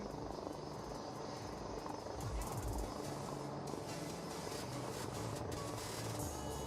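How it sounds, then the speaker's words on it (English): A jet aircraft makes a low-speed pass along the runway at the Aero India 2021 air show, heard as a steady distant engine roar with faint whine and some insect chirping in the background. "will now position the aircraft onto your left for a low-speed run along the runway"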